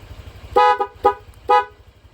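Three short honks from an aftermarket remote-controlled music car horn in an even rhythm, loud and close, over a low idling engine hum.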